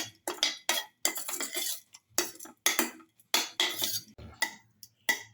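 A spoon stirs a yogurt and beetroot mixture in a pan over low flame, giving a series of rhythmic scraping strokes with short pauses, close and moderately loud, no talking.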